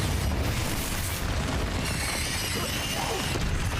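Confringo and Bombardo spell explosions in Hogwarts Legacy go off in a steady barrage of loud, booming blasts and crackling bursts. A voice speaks over the continuous roar.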